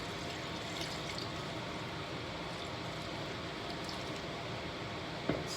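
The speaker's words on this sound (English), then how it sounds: "And I just put water in it." Water poured into a baking dish of marinated chicken legs and vegetables, a steady soft splashing wash that runs evenly throughout at moderate level, with a brief faint clink near the end.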